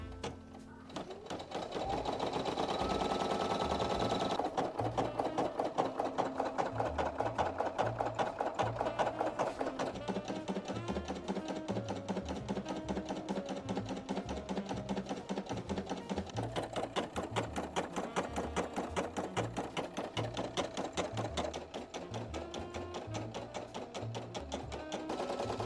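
Single-needle embroidery machine stitching out letters, a fast rhythmic needle chatter running close and steady, briefly pausing and shifting tempo as it moves between stitches, with no talking over it.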